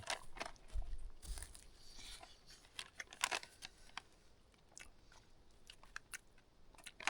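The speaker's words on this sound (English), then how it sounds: "Still a little crunchy on the pasta side, but I gotta eat." Someone eats undercooked, still-crunchy pasta at a backcountry campsite in the Sawtooth Wilderness, with close, irregular crunching bites and chewing clicks over quiet surroundings.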